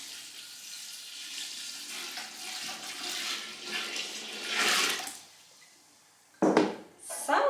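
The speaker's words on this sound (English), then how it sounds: "now we're going to pour the 24 cups of water over it." Water pours into a big pot over rosehips, a soft swelling splash that builds and fades, followed after a brief pause by louder sloshing and splashing up close.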